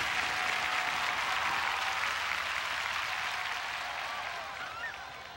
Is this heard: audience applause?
yes